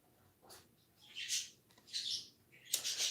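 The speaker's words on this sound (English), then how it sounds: "Yeah, those birds." Pet birds chirp indoors in a few short, bright bursts with gaps between them, faint and close by, with no talking over them.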